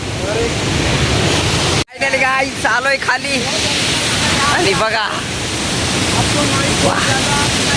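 Bharundi waterfall at Surgana roars as a loud, constant broadband rush, with people talking close over it.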